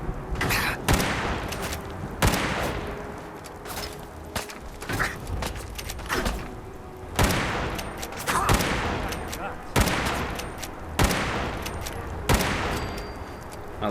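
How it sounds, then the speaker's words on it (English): Shotgun fire in Fallout 4 Far Harbor, a steady series of sharp, loud blasts roughly every second or two, each trailing off into a brief rumble. "He's using a shotgun."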